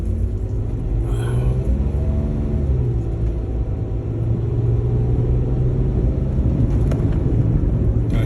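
A Jeep with death wobble shakes violently over a bump while driving, giving a loud continuous low rumble and shudder under the engine and road noise, steady throughout with no talking.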